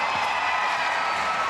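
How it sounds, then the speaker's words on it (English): A crowd at a FIBA Women's AfroBasket basketball game between Angola and Rwanda roars and cheers in a continuous, loud, dense wash of noise with no gaps. "the crowd just dancing and just cheering their team"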